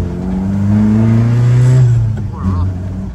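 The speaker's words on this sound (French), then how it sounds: "Oh, le son qu'il y a déjà dedans." An old BMW E30 with a Japanese K24 engine swap revs loudly and close, its tone climbing and then falling away, followed by a shorter second rev. People talk over it.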